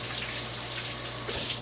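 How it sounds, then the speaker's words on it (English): Tap water runs steadily into a sink while hands are rinsed under it, a continuous close splashing hiss with no talking. "I'm going to just rinse my hands quickly."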